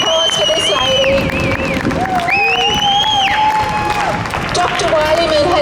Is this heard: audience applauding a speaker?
yes